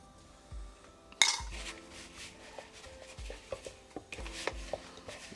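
A spoon scrapes and clinks against a bowl while mixing flour dough, irregular knocks and scrapes in a quiet kitchen with a sharp clatter near the start.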